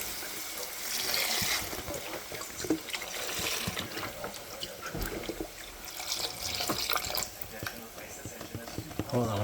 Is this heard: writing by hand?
no